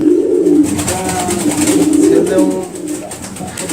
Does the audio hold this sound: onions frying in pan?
no